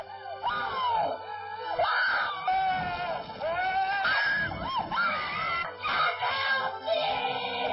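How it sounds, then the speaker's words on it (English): Shrill, wailing screams from the 1978 Spanish horror film Alucarda trailer, several overlapping voices shrieking continuously and loudly throughout with no pauses. "A lot of fucking screaming."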